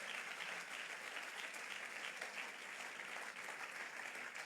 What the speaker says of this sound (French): Peux-tu acclamer Dieu qui est dans son grand amour?